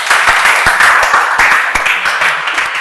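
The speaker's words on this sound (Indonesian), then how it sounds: "Ya, tepuk tangan dulu." Students clapping in a classroom, loud and close, a brisk burst of many hands with a few sharp individual claps standing out, no speech.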